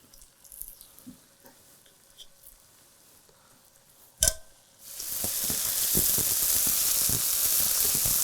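A sharp clatter, then a loud, steady sizzle of chicken searing in a hot pan that continues without pause.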